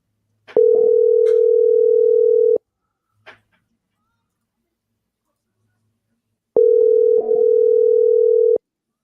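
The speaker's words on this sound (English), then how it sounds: "We're hearing a ringing coming through." Two long steady electronic tones sound on a phone line, separated by a pause, with faint brief clicks and blips between them.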